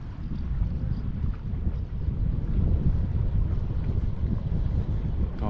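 Steady, loud wind buffets the microphone while kayaking on Galvė Lake in Trakai. It is a continuous low roar across the whole stretch, with no clear speech.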